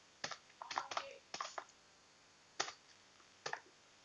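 Short bursts of computer keyboard typing: several quick clusters of key clicks separated by pauses, close and crisp in a quiet room.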